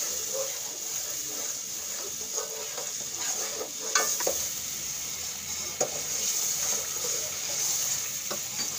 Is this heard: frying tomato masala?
yes